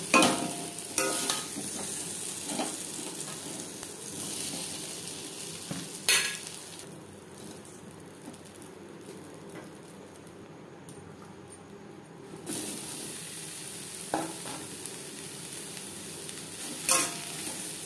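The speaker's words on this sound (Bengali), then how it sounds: "লবণ হলুদ দিয়ে সয়াবিন ভেজে নেব" Soybean chunks frying lightly in oil with salt and turmeric give a steady soft sizzle with occasional stirring scrapes and clinks, continuous throughout with no talking.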